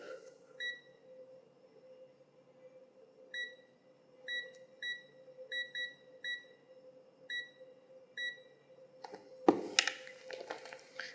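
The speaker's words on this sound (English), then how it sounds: "Now go to the buzzer test." A Sunshine DT19 multimeter's continuity buzzer gives a string of short, clear electronic beeps in irregular bursts over a steady low hum, then a sharp clattering handling noise near the end.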